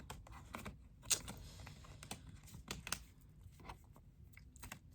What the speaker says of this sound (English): These cards are extremely relaxing to shuffle.